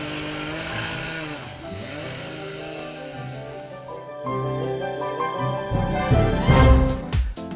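A power saw cuts concrete pavers for curved, mitered edges on a residential patio. It gives a steady, loud, droning whine that changes pitch, dips briefly, then returns rougher and heavier as the blade bites near the end.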